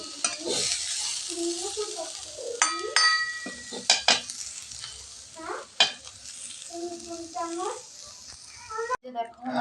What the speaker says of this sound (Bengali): শাক ভাজা